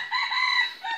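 A jungle fowl decoy rooster gives a single clear crow, a sustained rising-and-falling call of about a second, moderately loud and alone.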